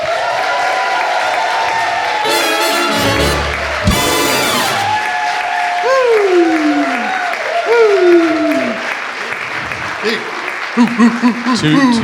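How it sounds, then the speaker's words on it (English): An audience at a ceremony applauds for an event committee, clapping sustained beneath rising and falling whoops and cheers, with a burst of loud noise early on and voices calling out near the end. "please give a big round of applause to our amazing committee, Stuart Davies, Sarah Smither and Dom Stab"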